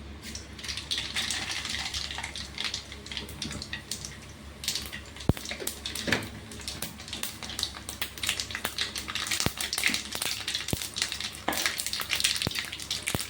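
Mustard seeds crackle and sputter in hot oil, with sharp, irregular pops scattered over a continuous hissing sizzle that grows busier over time.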